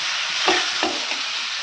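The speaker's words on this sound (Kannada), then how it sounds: "ಟೊಮೆಟೊ ಮತ್ತು ಅರಸಿನ ಉಪ್ಪು ಹಾಕಿ ಕಾಯಿ ಮೆಣಸು ಎಲ್ಲ ಹಾಕಿ ಫ್ರೈ ಮಾಡ್ತಾ ಇದ್ದೀನಿ." Tomato frying with turmeric, salt and chilies in oil, a steady close hiss of sizzling with two soft stirring scrapes in the middle, no voices.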